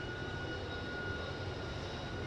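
Airplane engine in a flight video game, an aircraft trying to land at Tokyo International, a steady droning roar that holds evenly throughout with no voices.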